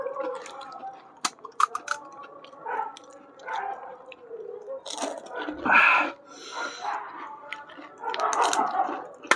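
Someone eats spicy puchka (pani puri) with coriander, chaat masala, cumin and chillies, giving close, wet slurps, crunches and squelches in irregular bursts, with quiet voices talking between bites.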